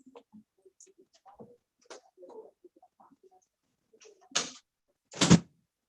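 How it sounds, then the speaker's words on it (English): An office door shut in a council meeting room: a sharp thud near the end, preceded by a softer bump and light rustling, with scattered faint handling noises throughout. "let me shut this door"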